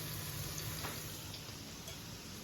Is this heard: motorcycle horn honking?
no